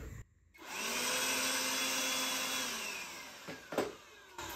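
A compact ALLOYMAN mini blower and vacuum runs with a steady, loud whirring drone after a brief start, used near sawdust for dust collection, with a few knocks and clatters toward the end.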